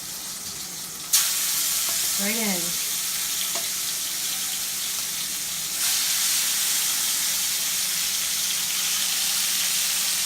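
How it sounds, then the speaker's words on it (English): Close, steady hiss and crackle of shrimp sizzling in a hot pan, growing louder partway through, with a brief spoken remark early on. "Hear that? With that sizzle."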